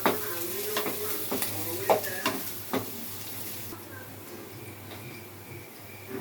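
Egg noodles sizzling in a pan while a utensil stirs and taps against the metal, several distinct clicks over constant frying hiss that quiets toward the end, with faint speech in the background.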